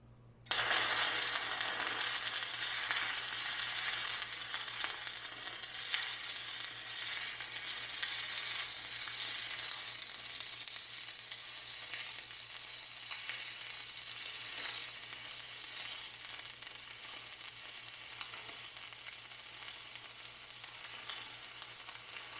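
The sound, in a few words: stick welding with Riland 250 amp welder rod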